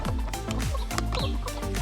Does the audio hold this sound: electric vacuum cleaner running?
no